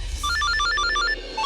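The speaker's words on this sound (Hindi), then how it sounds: "किसका टुनटुना बजे?" A telephone ringtone in a household scene plays a quick repeating electronic melody of bright beeping notes, steady and fairly loud over a low background hum, with no talk.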